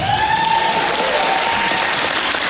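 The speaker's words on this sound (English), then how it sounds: "Yeah, you can clap for that." Comic convention panel audience clapping, loud and dense, with a voice briefly heard over it.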